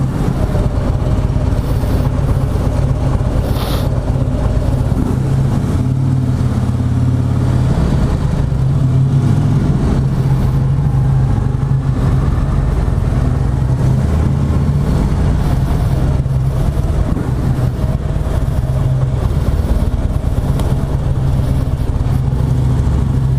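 Motorcycle out on a Sunday ride, its engine droning steadily and loud for the whole stretch, with low rumble and occasional shifts in pitch and some wind, no voices.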